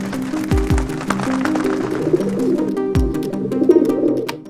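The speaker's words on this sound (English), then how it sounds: "the city grapples with a growing ecological challenge: the explosive growth of the rock pigeon." Rock pigeons coo in an Indian city, with several low, rolling calls repeating close by over a steady bed of urban ambience and faint bird chatter.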